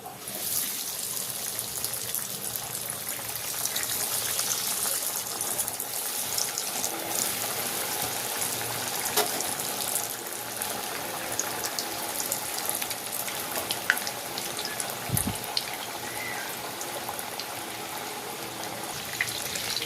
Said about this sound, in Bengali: তেল গরম হয়ে গেছে, এবার আমি একটা একটা করে ছেড়ে দেব